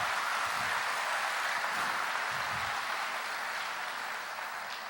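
A church audience applauds during a Portuguese-language worship service: a steady, dense wash of clapping that fills the room at a moderate distance, continuous throughout and fading only slightly at the end, with no voices over it.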